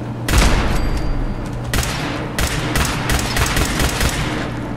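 Automated turrets fire in Fallout 4 around a flooded settlement, producing dense, loud bursts of gunfire that overlap and stutter continuously for several seconds with no voices.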